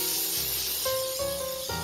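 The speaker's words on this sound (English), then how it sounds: "I'm going to oil this, or spray on some, I'm using coconut oil spray." Coconut oil cooking spray hisses onto parchment paper in a steady broad spray, with faint tonal hum from a kitchen appliance underneath and no talk.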